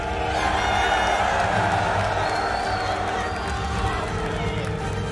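A large arena crowd at a Call of Duty esports tournament in Las Vegas roars and cheers steadily, a dense wall of voices filling a big space, with no break in the noise.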